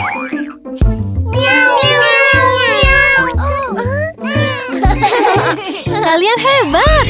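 Repeated cat meows, high and bright, sung over a children's nursery rhyme tune with instruments, imitating the sound of a playful kitten.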